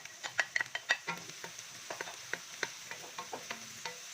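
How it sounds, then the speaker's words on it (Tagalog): Garlic and onion sauté in hot oil in a frying pan, with a steady sizzle under a string of sharp spatula clicks and scrapes as they are stirred. No one speaks. "At ang isusunod naman natin ay ang paggisa ng ating bawang."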